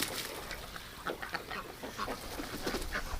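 Ducks and drakes on fresh water in freezing winter, with scattered quacks and short squabbling calls as drakes fight, busy and fairly close over steady background noise.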